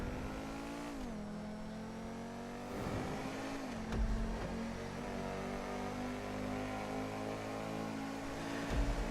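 A car engine in Grand Theft Auto hums steadily as the vehicle drives, with pitch shifting through gear changes and occasional revving swells, fairly quiet and without talk.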